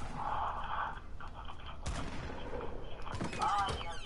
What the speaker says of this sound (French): Ah, minigun, c'est dégueulasse quand même!